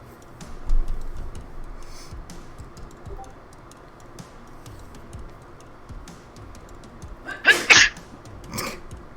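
A single sharp sneeze bursts out near the close, loud and close against a low murmur of room noise, followed by a fainter echo-like burst a moment later.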